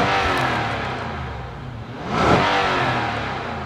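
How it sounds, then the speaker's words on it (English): A big V8 engine in a 2023 Nissan Patrol SUV revs up loudly and close, surging briefly then falling back to a rumbling idle, with no voices. "because this has a V8, let's take a listen to what it sounds like"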